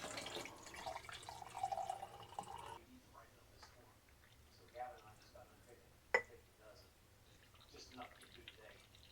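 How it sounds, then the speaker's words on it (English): Hot, not boiling, water trickling and dripping into jars of home-canned pork sausage, faint and intermittent, with a sharp clink near the end and soft speech around it. "So I'm going to put some hot water, not boiling, but hot water."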